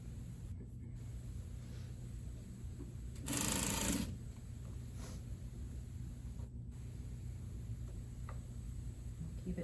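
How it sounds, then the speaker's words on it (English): A sewing machine edge stitches a shawl collar closed, giving a faint steady hum with one louder burst of stitching lasting under a second, alone with no talking. "you're gonna edge stitch this collar closed"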